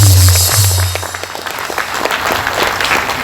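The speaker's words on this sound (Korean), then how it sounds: "정가훈 목사님께 뜨거운 박수를 보내주시기 바랍니다" Loud, dense applause from an audience at a church gathering honoring a pastor, sustained clapping that swells at the start and continues steadily throughout, with a faint crowd murmur underneath.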